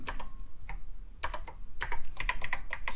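Fast bursts of typing on a computer keyboard during a BASIC programming demo on a vintage machine, with clustered key clicks that quicken and grow louder toward the end.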